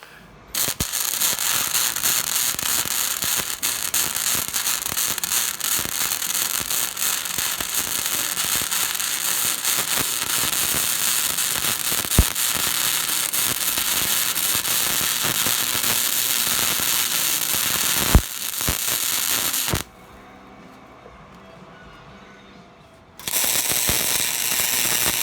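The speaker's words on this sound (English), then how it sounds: "Welding is done" Welding a box blade for a Kioti CS2520 tractor: a steady, loud crackling arc hiss runs continuously for about twenty seconds, breaks off into a quiet pause, then resumes at the end.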